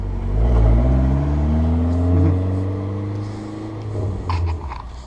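A Dodge SRT-4 ACR pulls away, its engine revving up through rising gear pulls, loud at first and then fading as the car moves off into the distance.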